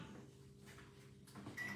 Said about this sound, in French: on stoppe le micro-ondes